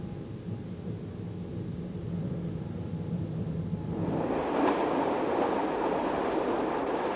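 A train on the Brünig railway line near Interlaken rumbles steadily as it climbs an embankment, its low drone shifting into a broader, brighter rolling roar of wheels partway through, fairly close and without talk.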